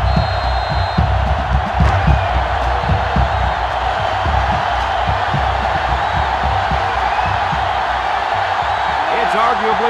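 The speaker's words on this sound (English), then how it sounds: "It's arguably the loudest crowd in the nation, and they are turning it up a notch." A stadium crowd roars continuously in the NCAA Football 2005 video game during a Clemson Tigers vs Florida Gators matchup, with loud sustained cheering and whooping throughout, mixed with faint commentary.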